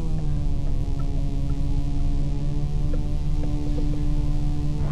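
Steady buzzing drone hum in the space game Everspace, continuous and throbbing at an even level throughout, with no talk.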